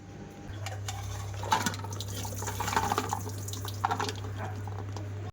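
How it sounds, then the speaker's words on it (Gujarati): Water pours and splashes steadily as it is drained off a pot of boiled peanuts, with a low steady hum underneath and a few louder splashes along the way. "હવે તેને પાણી નિતારી લેશું"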